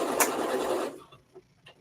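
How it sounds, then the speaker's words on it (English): A sewing machine stitches a strap into a bustier in a short loud burst of running that stops after about a second, followed by faint handling sounds. "I'm literally just making a bustier I've made thousands of times."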